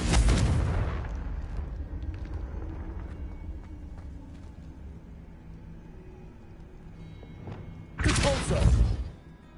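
Confringo fire-blast spell in Hogwarts Legacy: a loud, broad explosive burst opens, fades into a long low rumble, then a second heavy blast hits near the end.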